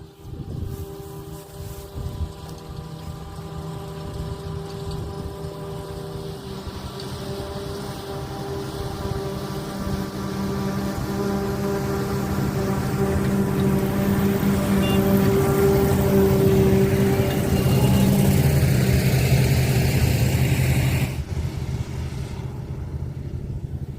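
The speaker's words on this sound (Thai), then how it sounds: "รถกำลังวิ่งมาพี่น้อง กำลังวิ่งมากกำลังเกี่ยวมากครับ" Combine harvester driving through a barley field, with a loud, continuous engine drone and machinery whir that builds gradually, mixed with wind noise on the microphone.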